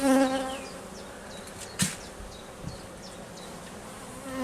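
Honeybees at an opened hive during a colony split buzz in a dense, close, humming drone, with a couple of brief knocks partway through.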